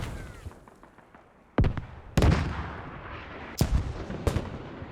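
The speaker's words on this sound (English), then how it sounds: "Mortars unprotected, but they are up. They are popping off for both sides." Mortars fire in the tactical shooter Squad, four sharp booming reports spaced a second or so apart over a quiet background, each thump fairly loud and followed by a short rumbling tail.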